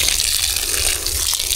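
Water gushes in a strong, continuous rush while plants are watered on a farm planted with durian, jackfruit and dwarf coconut; the hissing flow is loud and close, with no pauses and no voices.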